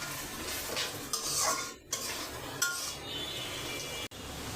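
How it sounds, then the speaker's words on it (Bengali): Malabar spinach going into a pot of dried fish and potato, heard as metal spoon scrapes and clinks against the pot with a soft sizzle underneath, a few sharper knocks spaced through it and no talking. "এখন আমি পুঁই শাকটা ছেড়ে দেব।"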